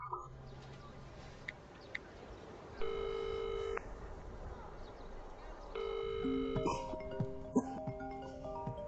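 A telephone rings in two bursts of electronic tones with a short pause between them, followed by a flurry of beeping tones, all fairly quiet and distant against a faint background.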